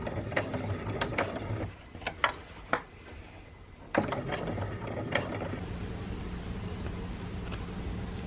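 A sewing machine fitted with a zipper foot whirs in short bursts, sewing on a zipper, with clicks and mechanical clatter, pausing between runs, close by.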